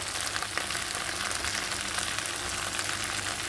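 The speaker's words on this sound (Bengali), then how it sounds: "একটু ভেজে নেব, হালকা করেই ভাজবো, খুব কড়া করে ভাজবো না।" Okra frying lightly in a pan of oil: a dense, even close-up sizzle with fine crackling that holds steady for the whole stretch, no voices.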